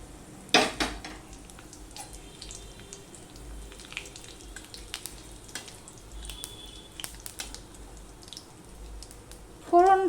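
Dried red chilli, a torn bay leaf and panch phoron spices crackle and sizzle in hot oil in a home kitchen, a faint steady fry with a few sharp pops and clinks of utensils near the start and end.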